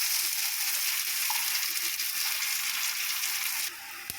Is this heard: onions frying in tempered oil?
yes